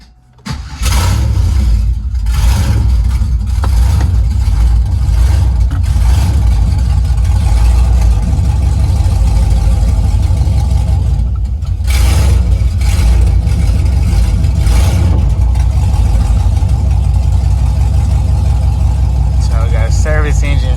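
A junkyard replacement engine in an auction Camaro SS starts and settles into a loud, steady, rumbling idle close by, with a brief dip and rev partway through.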